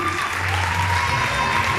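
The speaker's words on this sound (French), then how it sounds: "Et les applaudissements du public." A pageant audience in Lens applauds in a steady, dense wash of clapping, with a faint voice or tone running underneath for the short stretch heard.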